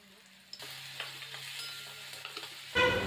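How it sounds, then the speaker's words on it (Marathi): Chopped potato and green chilli sauté in hot oil for sabudana khichdi, making a soft continuous sizzle broken by light stirring scrapes, with a louder burst of frying near the end. "तेल घालून बारीक चिरलेला बटाटा घालून घेऊया। नंतर बारीक चिरलेली मिरची, चवीनुसार मीठ घालून परतून घेऊया।"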